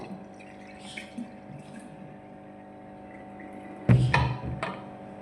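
Water poured from a half-litre measure into a vinegar bottle, a brief close splash and trickle of liquid filling the bottle after a quiet stretch of faint room hum, no one talking.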